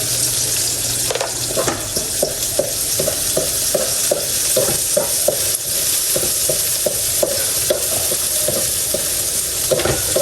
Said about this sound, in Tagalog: lagay na po natin ang bawang, sibuyas, at luya at saka may linga